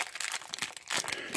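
A 2018 Bowman Baseball card pack being torn open, with loud, close crinkling and tearing of the foil wrapper in quick bursts over about a second and a half.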